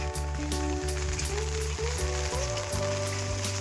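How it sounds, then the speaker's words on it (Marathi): Heavy rain falling outdoors while crabs are being hunted, a steady dense hiss of rain lasting throughout with a low tonal hum running underneath. "पाऊस पण जास्त आहे"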